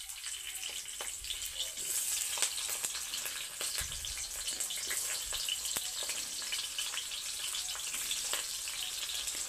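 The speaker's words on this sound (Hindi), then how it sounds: "तेल गर्म हो गया दोस्तों, अब ऐसो प्याज मिर्चा रख देते हैं।" Onions and chillies sizzling steadily in hot oil in a home kitchen pan, a constant bright hiss with occasional pops and faint clinks, moderately close.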